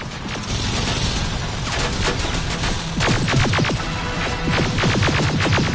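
Rapid gunfire in Terminator Resistance rattles out as dense automatic bursts, loud and close, over a thick, noisy battle backdrop with mechanical clatter.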